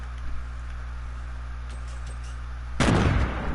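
Grenade blasts in a video game land as a sudden loud broadband burst near the end, after a steady low hum with faint scattered taps.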